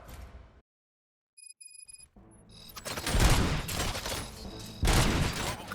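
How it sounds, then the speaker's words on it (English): RoboCop: Rogue City game gunfire: after brief electronic beeps and a quiet pause, a loud burst of rapid shots and heavy fusillade erupts and keeps rattling, with a second louder volley near the end. "Gunshots? What's going on?"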